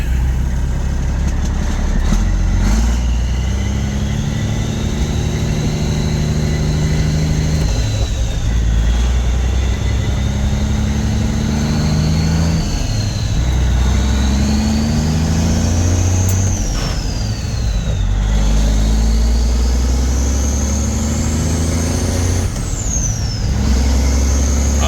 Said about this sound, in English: Love that turbo sound.